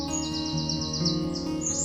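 Bright, repeated chirping bird calls in a garden as a pigeon arrives, the tweets rising steadily over a busy bed of layered music-like tones with no speech.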